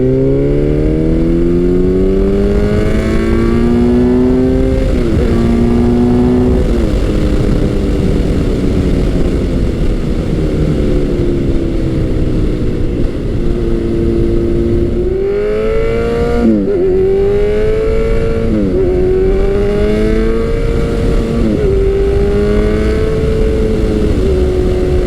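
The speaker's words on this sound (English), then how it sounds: "Although this exhaust is a little bit on the loud side, I have to say I love the tone." A Kawasaki Z900 motorcycle with a fairly loud exhaust revs hard and close, its engine note climbing and dropping through several throttle blips over a continuous, steady drone, with no voices.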